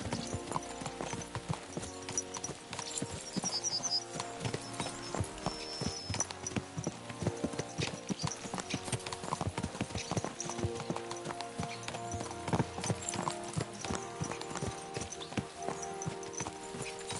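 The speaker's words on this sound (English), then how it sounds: "Let's really spur these horses on, eh?" Steady clip-clop of horses' hooves trotting in the video game Kingdom Come: Deliverance II, continuous and fairly close, with rattling and creaking layered over a busy background throughout.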